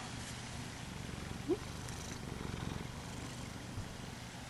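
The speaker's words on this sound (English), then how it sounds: "Are you purring?" A cat named Simon purrs softly and steadily while being brushed, a low continuous rumble close by, with a person talking briefly over it.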